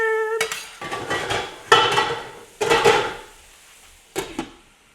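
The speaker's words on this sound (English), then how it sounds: "Just kind of mixing our meat around, making sure we don't burn one side." Dove meat is stirred around a hot pan, giving a few distinct metallic scraping and clanking strokes of utensil against pan in irregular bursts, close and fairly loud with quiet gaps between.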